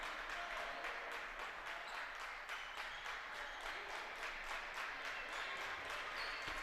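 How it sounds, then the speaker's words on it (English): Pikeville basketball fans clap steadily in a gym during a high school All A Classic game at Lexington Christian Academy, a dense, even patter of many hands with faint crowd murmur throughout. "Pikeville fans clapping on the Panthers as they'll set up the offense"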